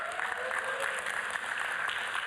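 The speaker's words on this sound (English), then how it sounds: "give them a round of applause, everyone" Applause from an audience at the close of a final workshop session, a steady dense patter of clapping that holds evenly and fairly softly through the whole stretch.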